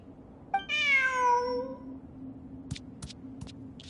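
A cat in Genshin Impact gives one clear, drawn-out meow, followed by a few soft clicking taps over a faint background hum.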